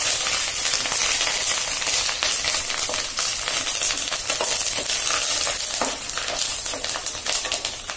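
Curry leaves, peanuts and garlic crackle in hot oil as a tempering for Kolhapuri bhadang, a dense, continuous close-up sizzle that holds steady for the whole stretch with no talk.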